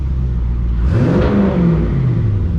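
A 1970 Chevelle engine gives a single quick rev-match throttle blip, the idle pitch sweeping up sharply and settling back down within a second over a steady close engine rumble.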